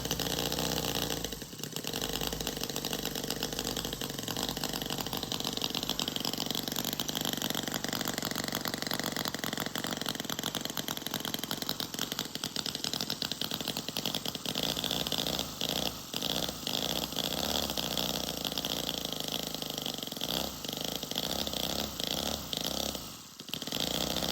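A running miniature Harley-Davidson V-twin Knucklehead model engine, just topped up with gas, with a steady loud, buzzy high-revving drone throughout, small dips in pitch and load but no talk.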